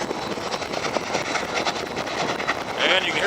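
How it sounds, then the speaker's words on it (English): A Cumbres Toltec Scenic Railway steam locomotive labors up a mountain grade, a rough continuous rumble and chuffing roar heard from aboard the train, fairly loud with wind noise mixed in. "you can hear by the sound of the engine, she's huffing and puffing to get us up the hill"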